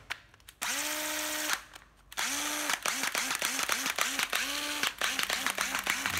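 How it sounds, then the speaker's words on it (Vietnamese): Hitachi cordless drill with a 13 mm chuck and fast/slow speed settings, whirring up in repeated bursts: two longer runs, then a string of short revs rising and dropping in pitch, close and loud. "Con khoan Hitachi."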